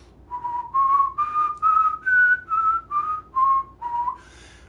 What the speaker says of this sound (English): It's just whistling, actually.